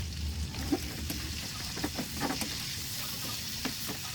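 Adobo frying in cooking oil, a steady close sizzle and crackle with occasional louder pops and light stirring scrapes.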